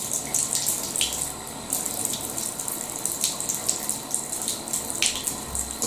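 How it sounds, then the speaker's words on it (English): Water gushes steadily from a tap into a porcelain bathtub with a continuous splashing rush, close and moderately loud, with no talking. "So let's get a little bit of water in here and let it do its thing."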